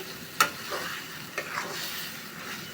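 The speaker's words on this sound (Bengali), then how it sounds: "নেড়ে চেড়ে ছেড়ে করবো, ভালো করে কষাবো।" Mutton rezala being stirred and sautéed, a faint steady sizzle with one sharp utensil clink near the start and a softer knock later, quiet and close, no speech.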